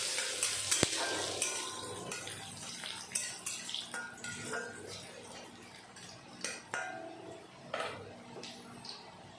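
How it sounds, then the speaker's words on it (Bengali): Crushed garlic hits hot oil already crackling with mustard seeds and cumin, giving a steady close sizzle broken by sharp pops and the clicks of stirring. "সর্ষে আর জিরা ভালো মতন ফুটে গেল, এখন আমি দিয়ে দেব থেতো করা রসুন"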